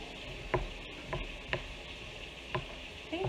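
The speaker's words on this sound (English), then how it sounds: "so I can scrape out these innards." Spoon scraping the insides out of hot roasted peppers, a series of soft scrapes and taps at irregular intervals, close and quiet over a faint background hiss.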